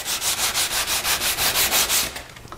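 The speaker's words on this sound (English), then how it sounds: "Time to just move to the sandpaper and kind of round over the edges" Rhythmic back-and-forth rasping of sandpaper on wood, about a dozen even strokes in quick succession, close up, then it stops.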